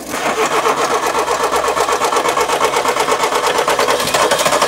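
Rapid, rhythmic churning of a Nissan Micra K11 engine cranking on stale fuel after ten years sitting, loud and close with a steady pulsing beat and no catch.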